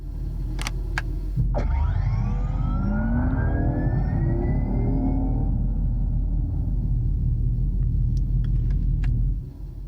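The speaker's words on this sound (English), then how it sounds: "when you press the button, it makes like a video game rocket ship sound" Power boost button on a Dodge Charger EV triggering a synthetic video-game rocket-ship effect, rising swooping electronic tones over a low cabin rumble, loud and close, lasting several seconds before fading out.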